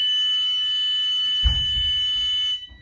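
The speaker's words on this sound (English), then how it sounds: "I want to make sure the buzzer sounds when open from the inside." A steady electronic buzzer drones continuously, interrupted by a thud and rattle of a door opening, then cuts off near the end.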